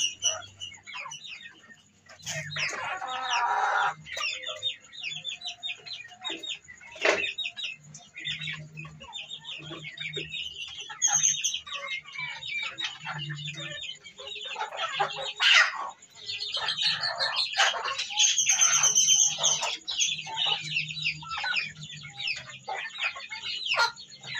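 Chickens and turkeys cluck and chatter steadily while pecking at watermelon, a busy close flock with overlapping calls and chirps and no talking.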